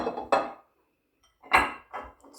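An empty bowl is set down on a kitchen surface while preparing a one-pot omelette pasta, giving two sharp clunks near the start and a cluster of louder knocks and clatters toward the end.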